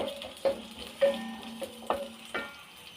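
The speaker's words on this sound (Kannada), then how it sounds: "ಇದು ಒಗ್ಗರಣೆ ಸ್ವಲ್ಪ ಈರುಳ್ಳಿ ಫ್ರೈ ಆಗಲಿ" Sliced onion fries in about a tablespoon of hot oil as a tempering in a kadai for green chicken curry. A close, steady sizzle is broken by several sharp stirring scrapes and clicks, with no talking.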